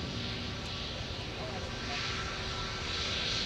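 A Delta airliner taking off from runway 17 at Minneapolis airport, a distant steady engine roar heard faintly under radio chatter.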